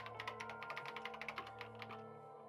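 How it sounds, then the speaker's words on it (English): Keyboard typing from the video game Danganronpa: Trigger Happy Havoc: a rapid, steady run of crisp key clicks for about two seconds over a low sustained musical hum, then the typing stops. "She began typing again."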